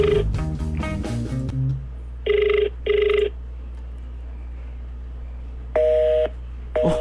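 Ringback tone of an outgoing mobile phone call, heard as two short bursts in the middle, then a third after a pause, with a tonal jingle at the start and one more burst cut off at the end.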